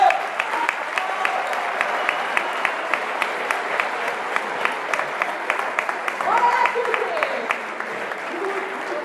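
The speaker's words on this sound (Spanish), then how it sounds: "Un aplauso para ellos." An audience at a Lent concert of a cornet and drum band claps in a sustained, fairly loud round of applause, with a voice briefly heard over the clapping midway.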